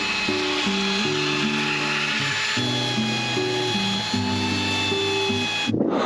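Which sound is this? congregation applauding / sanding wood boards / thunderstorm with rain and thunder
sanding wood boards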